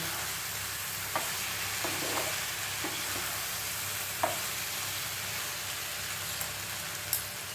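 Almond, melon seed and poppy seed paste sautés with mixed vegetables in a pan, giving a soft, steady sizzle with occasional light scrapes and taps of stirring, close but low in level, no speech.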